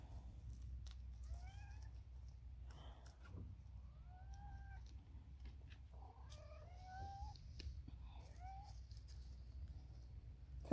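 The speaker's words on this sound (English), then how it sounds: "I hear a cat." A cat outdoors in the woods gives a series of short, faint meows spread over several seconds, some sounding distant, above a low steady background rumble.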